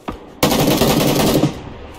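A Mini 14 rifle fires in a rapid spray in the PC video game PUBG Lite, one quick shot and then about a second of dense, loud, continuous fire that trails off.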